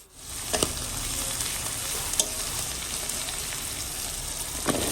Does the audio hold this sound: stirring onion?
yes